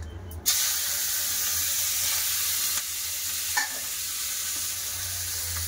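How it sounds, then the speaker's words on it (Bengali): Shrimp frying in hot mustard oil give a steady, loud sizzle with soft stirring clinks throughout, and no one speaks. "তেল গরম হয়ে গেছে, দিয়ে দেবো চিংড়ি মাছ"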